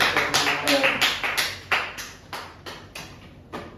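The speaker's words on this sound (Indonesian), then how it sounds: "tepuk tangan buat Mbak Dewi" A second-grade microteaching class claps for Mbak Dewi with a burst of loud, rhythmic group claps, about a dozen beats fading gradually, close by with a few voices mixed in.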